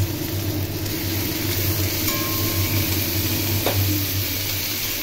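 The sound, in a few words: young jackfruit pieces frying in oil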